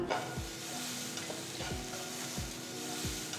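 Grated amla and curry leaves stir-fry in a pan, a steady sizzle broken by regular scraping strokes of a spatula, close and with no voices.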